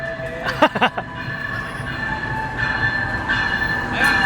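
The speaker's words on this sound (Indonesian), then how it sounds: "Oke nih, keretanya udah dateng." A Logawa passenger train pulls into a station, its wheels rumbling and squealing with sustained metallic tones, a few sharp clanks near the start, loud and close throughout.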